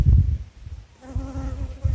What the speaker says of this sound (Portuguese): Abelha italiana, a gente cria também